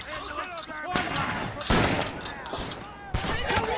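Battle gunfire in the video game MOWAS 2, Union troops besieging a Confederate fort: sharp, loud rifle and cannon shots and bursts over a dense combat din, with shouting voices mixed in.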